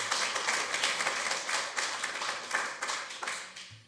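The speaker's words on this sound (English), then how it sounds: "as much as I might like the applause, I would ask you not to do so" A crowd at a planning sub-committee meeting applauds, producing dense, steady hand clapping from many people indoors that carries on for several seconds before starting to thin out.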